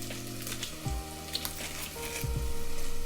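Chopped onion frying in a pan for a homemade curry, a steady close sizzle broken by a few soft scraping stirs, with a faint low hum underneath.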